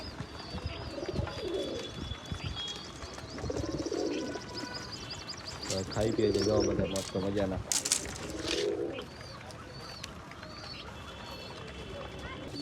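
Wild pigeons coo softly near a nest while feeding their chicks, with low repeated coos and some wing and beak sounds, under someone talking close by.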